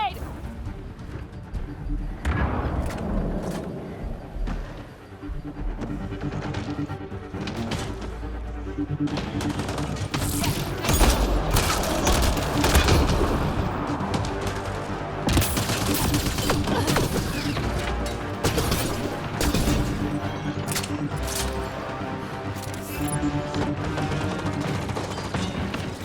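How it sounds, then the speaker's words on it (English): Gunfire and grenade blasts in the sci-fi shooter video game Mass Effect Andromeda make a loud, nearly nonstop battle of rapid automatic bursts, single shots and heavy booming impacts, with shouted voices now and then. "Watch the grenade!"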